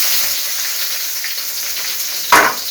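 Onion sizzles steadily in a hot frying pan, with a brief louder clatter near the end.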